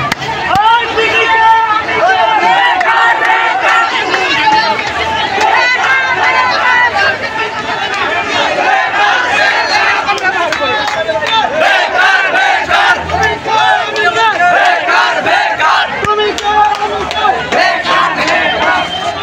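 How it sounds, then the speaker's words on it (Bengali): Garment workers at a protest on the Gaziupur bypass chant slogans as a large crowd, continuous loud rhythmic shouting with babble throughout. "দেখতে পাচ্ছেন আপনারা এই মুহূর্তে স্লোগান হচ্ছে তুমি কে আমি কে, বেকার বেকার।"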